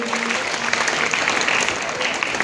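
Audience applause for a ninth-grade student's Independence Day speech at a school celebration, a dense, steady wash of many hands clapping throughout.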